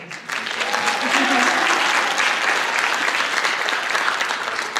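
Sustained applause from a school winter orchestra concert audience honoring a flute soloist in a Renaissance piece, a dense steady clapping that swells after a brief start and holds evenly throughout.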